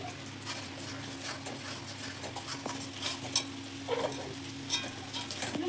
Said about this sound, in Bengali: আমি কষিয়ে নেড়ে মশলাটাকে।